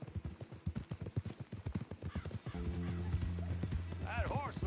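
Steady clip-clop of horse hooves trots along in a regular rhythm in Red Dead Redemption 2, then a horse whinnies loudly near the end over a droning musical background.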